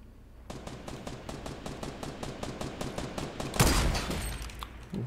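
Fortnite automatic gunfire, a rapid steady burst of evenly spaced shots running for several seconds, followed by a louder explosive blast near the end.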